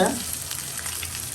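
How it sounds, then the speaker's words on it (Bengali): Dried fish (shutki) fries in a pan, a brief continuous sizzle heard close up with light stirring noises. "এই তো শুটকি ভাজা হচ্ছে"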